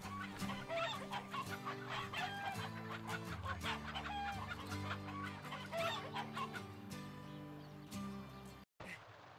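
Chickens cluck and squawk repeatedly in The Hobbit video game, a busy chorus of close fowl calls over a low musical drone, with brief talk mixed in before a sudden cutoff near the end.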